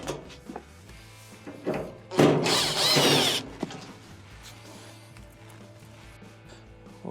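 A power driver backs out two Phillips screws from a clothes dryer during a door switch repair, a loud burst of whirring lasting about a second, preceded by quieter handling clicks and knocks of the tool against the metal cabinet.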